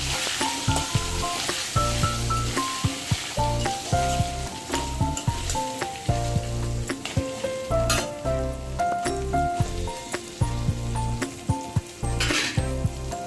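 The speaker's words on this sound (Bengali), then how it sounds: "ভেজে নেবো ভালো করে" Pangas fish frying in hot oil, a steady close sizzle with repeated metallic clinks and scrapes of a utensil against the pan, recurring irregularly over background music.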